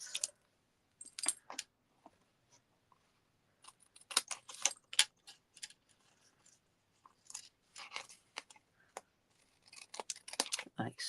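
Scissors trimming scraps of patterned paper for a handmade greeting card, a run of crisp close snips and paper rustles in irregular bursts, with short pauses between cuts.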